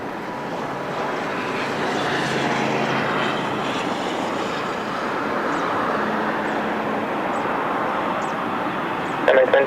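An Airbus A321neo jet rolls for takeoff on a Lisbon airport runway, a broad steady engine roar heard from a distance that swells slightly and holds throughout.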